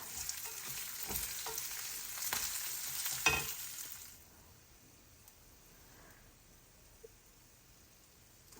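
Karela chutney ingredients, curry leaves among them, roast together in a pan with a steady sizzling hiss and a few scraping stirs for about four seconds, then the sound drops to near silence with one small click.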